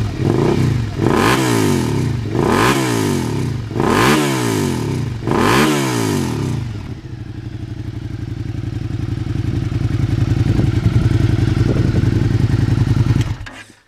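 A 2017 Suzuki SV-650 motorcycle engine with a pre-muffler is revved hard at wide open throttle four times in a rhythmic series, each loud rise and fall close by, then it settles into a steady, rumbling run.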